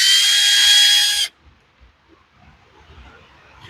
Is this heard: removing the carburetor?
yes